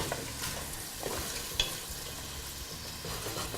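Vegetables sweat gently in a soup pot for broccoli and cauliflower soup, giving a steady low sizzle with a brief stir or clink, close and continuous with no talking.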